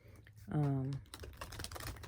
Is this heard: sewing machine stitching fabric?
no